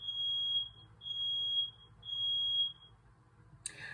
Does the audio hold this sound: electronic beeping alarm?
yes